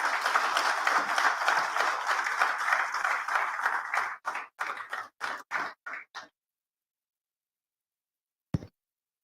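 A conference audience applauds to welcome a speaker to the stage: dense, sustained clapping that thins into a few scattered claps and stops, then one last isolated clap after a pause.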